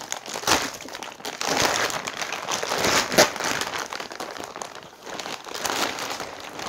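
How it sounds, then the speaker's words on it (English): Loud, continuous crinkling of plastic packaging being handled up close, with rustling bursts and crackles throughout and no talking. "I'm sorry about any of this plastic noise."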